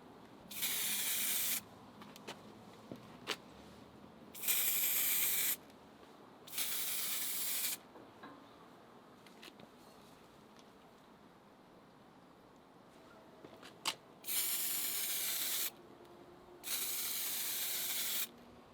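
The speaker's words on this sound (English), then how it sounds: "you can see going past the start and stop point of the spray, so you're not building up too much paint" Aerosol spray can applying paint to a converted Epiphone guitar headstock, five separate hissing bursts of a second or two each, with quiet gaps between passes and no talking.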